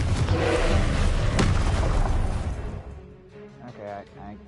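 A Confringo fire spell in Hogwarts Legacy lands as a loud booming blast that fades within about three seconds, followed by a quieter tail.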